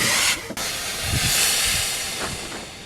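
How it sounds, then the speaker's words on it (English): A steam cleaner with a microfiber towel held on its brush by a hair tie runs with a steady loud hiss of steam, broken by a brief sharp burst near the start. "Turn on your steam cleaner."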